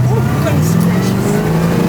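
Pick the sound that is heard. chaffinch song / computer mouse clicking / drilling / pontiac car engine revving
pontiac car engine revving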